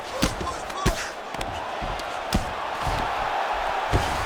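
Arena crowd at a Belal Muhammad vs Sean Brady fight roars steadily as the fighters return to their feet after a long grappling exchange, with scattered sharp thuds and a commentator talking over the din.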